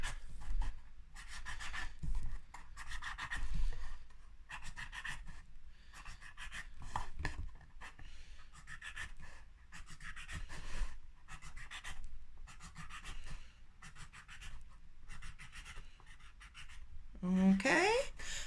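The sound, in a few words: drawing stars with a pen on a maraca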